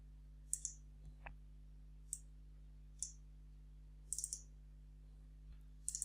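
Sparse, faint computer keyboard key clicks, about eight single presses spread unevenly over a steady low electrical hum, with no voices.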